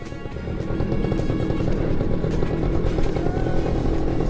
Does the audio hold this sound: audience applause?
no